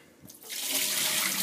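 Starchy water from rinsed potatoes for homemade French fries splashes into a sink, starting after a soft clunk and swelling into a steady close rushing pour.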